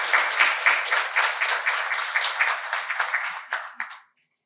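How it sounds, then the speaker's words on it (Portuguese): A seated audience at an academic induction ceremony in Brazil breaks into dense, steady applause for a new member of the arts academy. The clapping stays even for about four seconds, then fades out. "Peço uma salva de palmas ao acadêmico que tomará posse."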